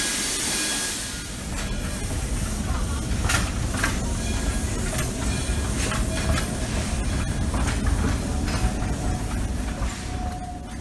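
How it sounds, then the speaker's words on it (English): A train running along rails, a steady heavy rumble with faint rhythmic clicks and brief hissing bursts above it, continuous and fairly close throughout, with no one talking. "Trains, eh?"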